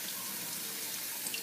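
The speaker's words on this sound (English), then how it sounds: "Let me rinse these grapes off." Tap water running over grapes being rinsed in a kitchen, a steady soft hiss of flowing water with no pauses, fairly quiet and alone.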